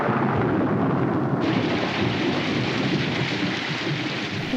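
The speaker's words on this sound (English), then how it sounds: "Could be raining." Steady rain pours down with a deep rumbling roll of thunder underneath, loud and continuous throughout, with no voices.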